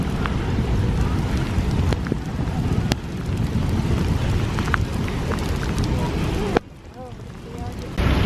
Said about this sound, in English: So it's pouring down rain right now and we're just walking home.